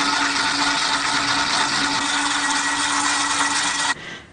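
Vacuum cleaner motor whirring at a loud, steady high pitch for about four seconds, then cut off abruptly as it winds down.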